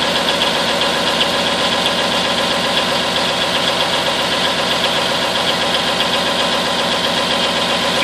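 An M931 military truck engine idles after a cold start, producing a loud, steady, rough rumble with constant knocking vibration throughout and no voices.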